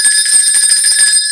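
Doorbell ringing continuously for over a second, a loud, steady electric ring with sustained bright tones and no talking.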